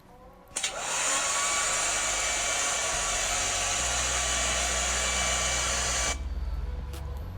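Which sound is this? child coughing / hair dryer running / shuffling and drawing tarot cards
hair dryer running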